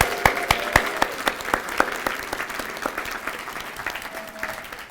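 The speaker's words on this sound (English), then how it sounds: "So one last round of applause for our honorees tonight." Applause for honorees at a law school alumni association awards dinner, starting with a few sharp individual claps and settling into steady clapping from a roomful of people that gradually thins.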